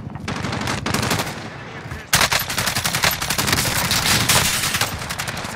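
Sustained automatic gunfire from Call of Duty: Modern Warfare, loud and dense bursts of rapid shots rolling on throughout, growing heavier after a brief dip, with no voices over the shooting.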